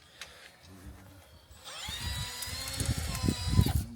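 A powerful electric drill, apparently fitted with a large whisk attachment, spins up with a rising whine and runs steadily with rough grinding, after quieter handling noises.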